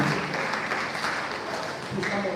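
Brief burst of audience clapping at an inter-tertiary debate competition as panelists are introduced, dense and fairly even throughout with a faint murmur of voices mixed in.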